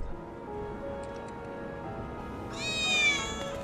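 A cat meows once, clear and drawn out, in Final Fantasy 7 Remake, rising out of a quiet game ambience with a low steady hum and faint ticks before it.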